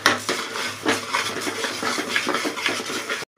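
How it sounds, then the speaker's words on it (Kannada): Garam masala and mutton masala with salt frying in a pan, a spoon scraping and stirring in steady repeated strokes with a soft sizzle underneath, close and fairly loud, no talking. "ಇದನ್ನು 1 ನಿಮಿಷ ಹಂಗೇನೆ ನೀಟಾಗಿ ಮಸಾಲ ಸ್ಮೆಲ್ ಆಗೋವರೆಗೂ ಫ್ರೈ ಮಾಡೋಣ."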